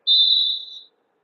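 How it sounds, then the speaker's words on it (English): A single sharp referee's whistle at a basketball game, one sustained blast of just under a second that fades slightly before cutting off cleanly. "Got a whistle."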